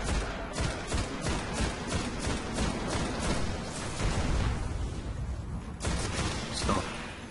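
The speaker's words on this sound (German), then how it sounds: "Ich sollte da mal leer feuern, damit man auch sieht, wie das Schnellnachladen funktioniert." Rapid scout rifle fire in Destiny, a shooter video game, emptying the magazine: a dense run of loud, closely spaced shots with a short break near the end before a few more rounds.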